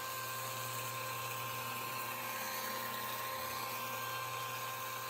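A power polisher buffs the hood of a Buick car with a steady, close, high-pitched motor whine that holds even throughout, with no talking.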